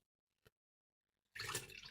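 Warm water at 42 degrees is poured into a bowl for lemon quark buns, a close, steady splashing pour that starts abruptly after a single soft knock and near silence.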